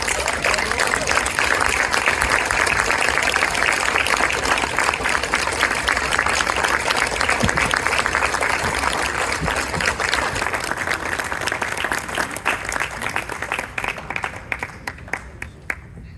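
A banquet crowd at an interfaith dinner during the ISNA Convention 2023 gives sustained, loud applause that holds steady for most of the stretch, then gradually thins and fades toward the end.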